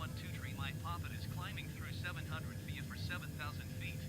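Airbus A321 jet engines in Microsoft Flight Simulator 2020, departing San Francisco with flaps up, hold a steady low drone and rumble throughout, with a voice talking over them.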